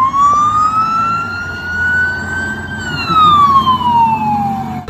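Toy traffic police car siren, an electronic wail gliding slowly up in pitch then sweeping back down, loud and close, playing alone with a faint background hum.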